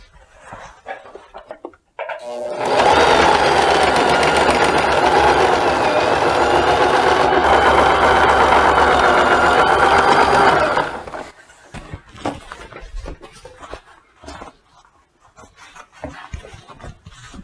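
A sewing machine stitches a 1 cm seam on wide-leg trousers, running in one loud, continuous, rapid whir for about eight seconds, preceded and followed by quiet handling noises and fabric rustles.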